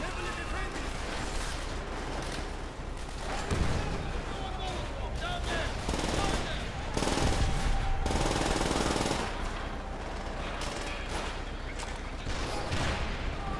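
Heavy gunfire and explosions from Call of Duty: World at War fill a loud, dense battle scene: rapid bursts, booming blasts from bazooka rockets and grenades, layered continuously throughout.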